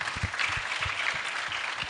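An audience claps steadily and densely throughout, with a few low thumps mixed into the ongoing applause.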